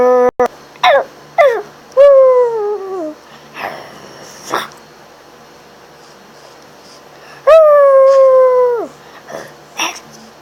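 Howls and whimpering yelps from a legendary dog in a video game, several short cries followed by two long drawn-out howls, loud and close against a quiet background.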